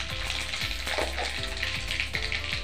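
Mustard seeds crackling and popping in hot oil in a kadhai, a dense continuous sizzle with scattered sharp pops and occasional stirring scrapes, close and fairly loud with no voices.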